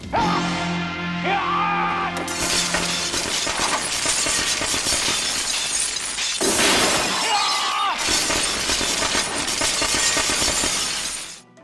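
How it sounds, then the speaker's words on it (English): Sugar glass shatters as a stuntman crashes through it in the Police Story mall stunt, a loud sustained burst of breaking and tinkling glass that repeats in two big crashes, with faint yelling. "crashing through sugar glass to the ground below"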